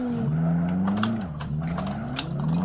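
A racing car's engine in the Live for Speed driving game drones steadily at close range, its pitch dipping and climbing with throttle changes, with a brief sharper tick partway through and no talk over it.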